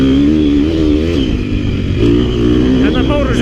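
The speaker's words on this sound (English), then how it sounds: "listen to that, just boom, you get on the gas, out of those corners" A KTM 250 XC-F four-stroke dirt bike engine revs hard as the throttle opens out of corners, a loud, sustained buzzing drone that rises and dips with gear changes, with wind noise from the moving ride throughout.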